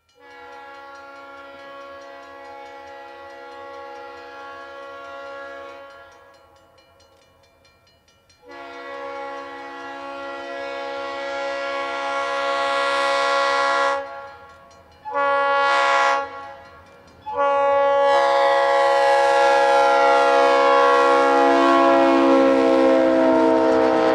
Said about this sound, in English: Our train has completed its switching moves and can now make its way eastbound to Dierks.